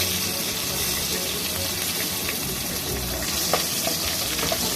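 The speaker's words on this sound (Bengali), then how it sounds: "লঙ্কাটা দিয়ে একটু ভেজে নিই ভালো জিরে দিলাম আর কাঁচা লঙ্কা দিলাম ফোড়নে" Green chilies and cumin seeds fry in hot oil as a tempering, producing a dense, steady sizzle close to the pan with a few faint clicks, and no voices.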